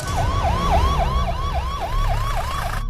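An ambulance siren wails in a steady, repeating rising-and-falling pattern, loud and close, with a low engine and road rumble underneath and no voices.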